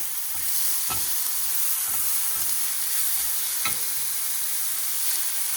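Swedish meatballs sizzle steadily in an overheated pan with olive oil, a constant bright hiss broken by periodic scrapes of stirring, no voices.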